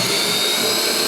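Kitchen in the Box stand mixer with a metal motor running at speed, a steady, loud, high whirring drone heard alone with no talking.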